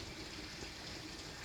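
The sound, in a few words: water flowing over jagged stones of a waterwall feature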